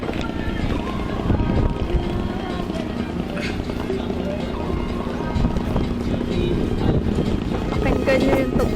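A boat ride in Vietnam with a steady low motor rumble and water wash running throughout, breezy and fairly loud, with voices talking over it.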